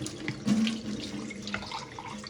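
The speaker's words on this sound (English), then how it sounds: "Just rinse it out, doesn't take that long." Water runs steadily from a tap while a used food container is rinsed out, a continuous close splashing hiss with no talking.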